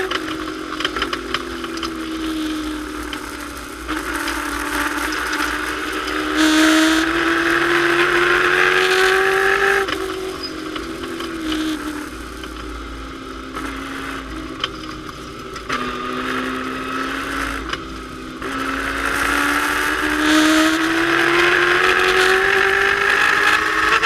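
Classic race cars mixed in with other race cars run down a circuit's back straight, engines droning and rising in pitch through the gears as several pass in sequence, fairly loud and steady with no talk.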